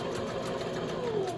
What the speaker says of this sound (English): And I'm going to sew and do my back stitch.